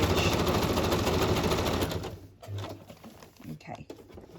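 A sewing machine stitches along the frayed edge of fabric for a boho journal cover, its rapid steady whir loud and continuous for about two seconds before stopping, then quieter handling noises and a voice speaking.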